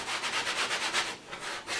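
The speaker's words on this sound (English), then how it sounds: "I'm going to grab my sandpaper" Sandpaper rubs across gessoed canvas front in quick rhythmic back-and-forth strokes, a soft, close, scratchy swish repeating about every quarter second.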